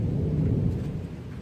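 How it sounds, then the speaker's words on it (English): Rain falls outside on a dark evening, a steady broadband hiss with a low rumbling undertone, continuous and fairly loud with no voices. "It's really dark outside and it's actually started to rain."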